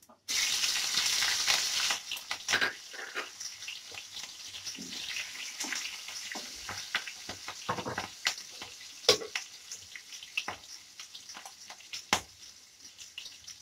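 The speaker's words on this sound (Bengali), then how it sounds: "এর মধ্যে ফোড়নটা দিয়ে দেব, কালো জিরা আর রাঁধুনি দিয়ে দেব।" Nigella and radhuni seeds hitting hot oil in a pan, a loud hiss at first that settles into steady sizzling and popping, with occasional stirring scrapes and a few sharp clicks, no voices.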